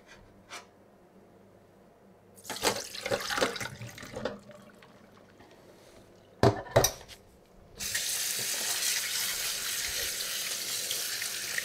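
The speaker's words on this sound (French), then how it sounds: "On va les laver à l'eau claire." Gherkins for homemade vinegar pickles rinsed under clear running tap water in a sink, with scattered handling clatter early on, then a steady, fairly close gush of water.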